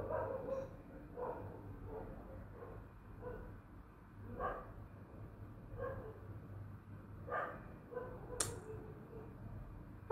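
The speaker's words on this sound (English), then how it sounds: "that dog was barking" A dog barks somewhere in the distance, faint repeated barks coming every second or so for about ten seconds against quiet room noise.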